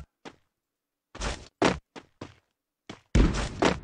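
Gunfire in a Free Fire clan-war match, sniper rifle in play: a single early shot, then a close cluster of sharp, loud bursts after a pause, and a longer heavy volley at the end.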